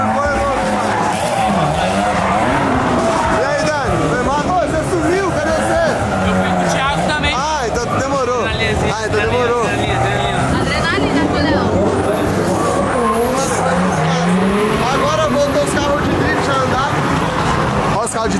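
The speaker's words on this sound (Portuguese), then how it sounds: "os carros de drift é muito massa" Drift cars slide with squealing tires and revving engines, a continuous loud wash of screeching rubber and motor noise while excited voices talk throughout.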